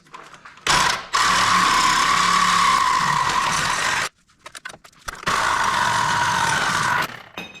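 A power cutting tool slices into the sheet-metal body of a GMC Jimmy/Blazer to clear a lift. Two sustained, loud, buzzing runs are heard up close, separated by a short pause with small clanks.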